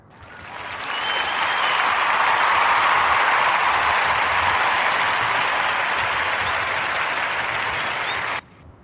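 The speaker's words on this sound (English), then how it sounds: "join me with a rousing round of applause" Rousing crowd applause swells over the first second, holds as a thick, even wash of clapping for several seconds, then cuts off abruptly near the end.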